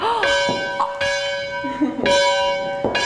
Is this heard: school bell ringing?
yes